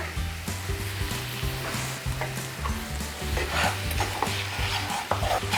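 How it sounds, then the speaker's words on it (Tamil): Ragi puttu flour stirred and roasted in a pan, a steady dry sizzle under continuous scraping strokes of a spoon against the metal, close and even throughout with no talking. "இது கொஞ்ச நேரம் வறுபடணும்."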